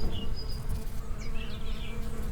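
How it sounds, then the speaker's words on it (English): Bees buzz continuously nearby, a dense droning hum with a few higher whines as insects fly past. "she heard the buzzing of the bees again"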